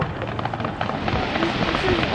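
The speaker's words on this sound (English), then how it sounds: "This is the best fireworks we've ever had." Fireworks at a Canada Day celebration give off a steady crackling rumble with scattered pops and bursts, loud and continuous, with faint voices of onlookers mixed in.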